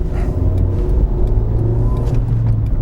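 A manual car's engine drones loud and close as it accelerates through the gears in traffic, its steady, rising hum filling the whole stretch.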